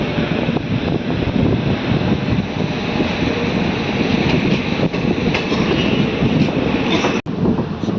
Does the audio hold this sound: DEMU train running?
yes